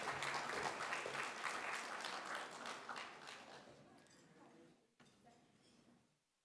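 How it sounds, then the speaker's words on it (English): Sustained applause from a large gala audience honoring award winners, a dense wash of many hands that gradually fades, with a brief tail of scattered claps at the end. "Give another round of applause for our 20 individual winners."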